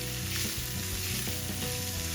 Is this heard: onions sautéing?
yes